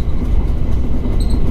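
White Kamome limited express train passing through Urakami's Utsutsugawa station, a loud close steady rumble of wheels and rail noise filling the short moment with no talk.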